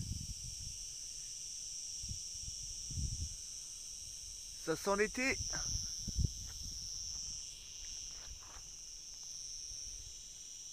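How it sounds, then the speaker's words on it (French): Steady high-pitched buzzing of cicadas drones continuously throughout, with a person speaking briefly in the middle. "Et on entend les premières cigales. C'est génial. Vous entendez?"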